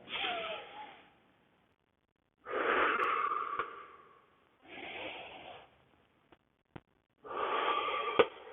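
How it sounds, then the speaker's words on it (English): Slow, breathy exhalations during a Pilates back and core exercise, four long airy breaths separated by quiet pauses, close and moderately soft, with no talking. "Exhale back."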